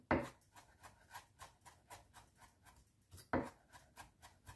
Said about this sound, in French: Ensuite, hachez l'ail.